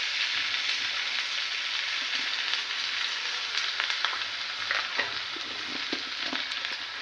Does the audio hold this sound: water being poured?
no